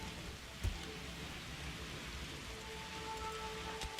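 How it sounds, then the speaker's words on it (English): Rain in the video game RimWorld falls as a steady, even hiss of drops, with a brief thump early on and no talking. "Oh, it's raining out."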